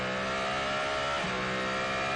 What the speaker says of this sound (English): There's the Alpine number 35 car that just flashed through turn 1